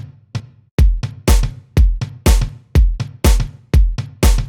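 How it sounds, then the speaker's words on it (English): Organic-sounding tom drum hits layered over an electronic beat with a snare, punchy close strikes repeating in a steady groove, alone without talk. "And then you make it even more obvious by adding organic tom sounds."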